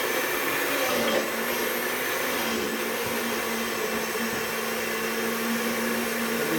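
A blender whirs steadily at high speed, pulsing chimichurri with olive oil into an emulsion, a loud continuous motor drone with a faint shift in pitch midway and no talking.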